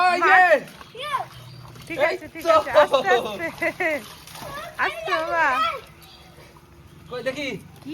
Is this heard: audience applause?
no